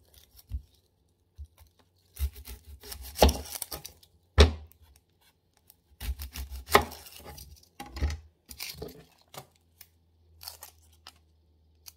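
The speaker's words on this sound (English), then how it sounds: "I'm gonna cut the onions." A blade cuts through onions with crisp, crunchy slicing strokes in irregular bursts and a few sharper knocks. The cutting is close and loud against an otherwise quiet background.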